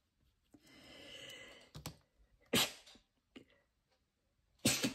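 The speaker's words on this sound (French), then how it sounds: "aujourd'hui, j'arrête pas d'éternuer" Two sharp sneezes from a person working on a watercolour and oil pastel background, each a sudden loud burst, separated by quiet moments with small clicks and a sighing breath.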